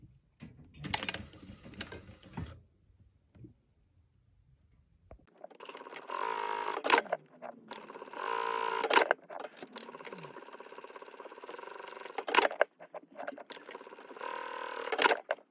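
A sewing machine stitches a skirt in several bursts of rapid mechanical chatter, close and fairly quiet, separated by short pauses and a stretch of near silence near the start.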